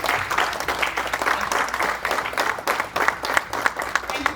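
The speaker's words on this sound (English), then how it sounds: "would I please have you have a round of applause" An audience applauds a guest of honor, Sierra Leone's embassy Diaspora Affairs Coordinator, with steady, moderately loud clapping throughout and a voice talking over it.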